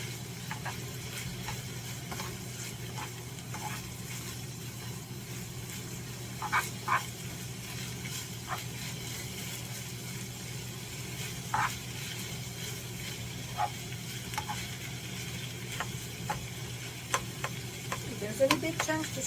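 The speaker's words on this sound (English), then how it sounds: "Stir that up." Ground meat frying in a pan with buttery steakhouse seasoning, with a low steady sizzle and sporadic soft scrapes and taps as it is stirred, fairly quiet and close, with no voices.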